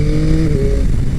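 2021 Yamaha MT-09 SP sport roadster accelerating, a loud close engine roar with a rising, stepped tone, brief and alone.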